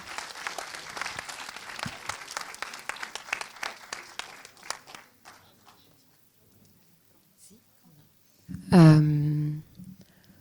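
An audience applauds two film directors, a thick burst of clapping that thins out and fades over several seconds, followed by near silence and then a brief loud vocal sound close by.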